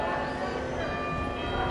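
A bell rings steadily with sustained, shimmering tones over a constant background wash, fairly close and continuous for the whole moment.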